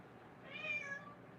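One quiet cat meow rises and falls indoors, sounding faint and somewhat distant against a near-silent room.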